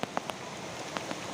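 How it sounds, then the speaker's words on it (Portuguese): Heavy rain falls in Tucumã, Pará, Brazil, at the end of August 2021, a faint, dense patter of drops with a few sharper splashes close by over a brief moment. "Chuva pra molhar mesmo."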